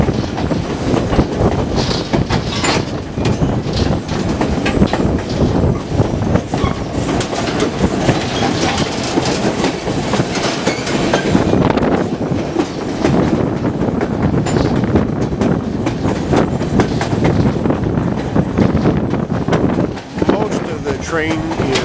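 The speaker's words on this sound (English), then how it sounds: "Love being able to see the engines as they go around these corners." White Pass & Yukon Route train engines rounding curves on the Summit section, loud continuous rumbling and clattering of railcars with wheel squeal and wind buffeting the microphone.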